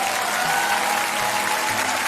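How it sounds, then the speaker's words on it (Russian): A theatre audience breaks into loud, sustained applause, a dense wash of clapping that carries on evenly without pause. "Встречайте аплодисментами!"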